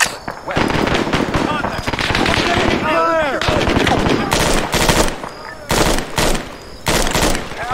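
Rapid automatic gunfire in the military video game Arma 3, with dense overlapping bursts and sharp cracks rattling almost without pause. Heavier volleys punch through near the end, and a voice is briefly audible amid the shooting.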